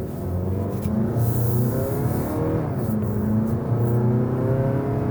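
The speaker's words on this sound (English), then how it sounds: "doing our uphill dig there to 60 miles per hour" 2023 Mazda CX-50 crossover accelerating uphill in sport drive mode toward 60 mph, a loud, steady engine drone heard from inside with the pitch climbing through gears and a brief shift dip midway.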